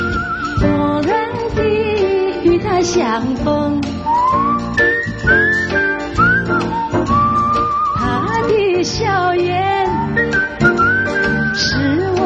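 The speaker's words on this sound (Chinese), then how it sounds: "你吹口哨，我唱" Someone whistles a melodic tune in a lively Taiwanese TV variety-show setting, the whistled line running continuously over a loud accompanying band and backing music throughout.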